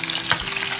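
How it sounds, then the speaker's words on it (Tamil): Steady frying sizzle of shallots and garlic sautéing in a hot pan, continuous and close, with a brief stir or scrape partway through. "சின்ன வெங்காயம் பூண்டு இதை கொஞ்சம் நல்லா செவக்க வதக்கிட்டு"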